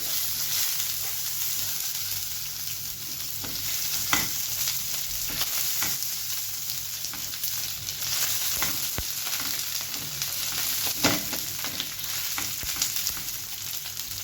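Food frying in a pan with a couple of drops of oil, a constant close hiss and sizzle with scattered pops and crackles, no voices.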